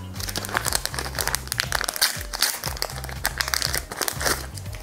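Foil wrapping of a Panini Ice Age 5 sticker packet crinkles and crunches in close, busy bursts for about five seconds, over steady low background music.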